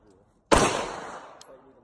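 A single sharp gunshot at a shooting range, loud and close, with a long ringing echo decaying over the following second.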